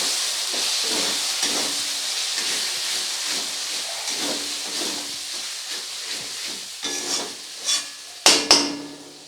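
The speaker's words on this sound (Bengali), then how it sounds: "এবারে কাঁচা লঙ্কাটা দেওয়ার পরে একটু কাঁচা লঙ্কাটা মিশিয়ে নেব।" Green chili paste for chicken masala being mixed and fried in a pan, a strong steady sizzling hiss up close with rhythmic spatula scrapes, ending in a couple of sharp knocks against the pan.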